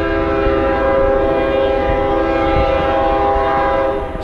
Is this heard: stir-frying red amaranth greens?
no